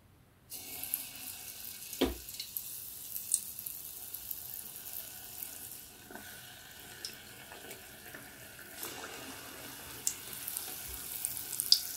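Dumpling dough dropped into hot oil in a small pot, giving a steady faint sizzle and bubbling with occasional soft clinks, close by and without talk.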